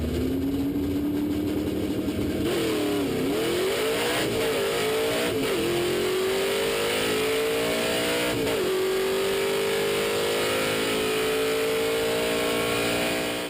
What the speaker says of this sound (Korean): 기어를 넣고 엑셀을 밟아 RPM을 미리 올려놓는 것을 볼 수 있습니다